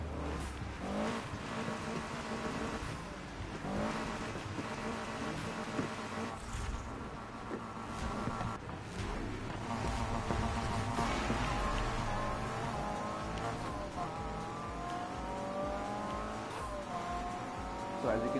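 Race cars in Need for Speed Heat roar past one another, engines revving and rising in pitch with squealing tires, a continuous loud motor drone under occasional talk.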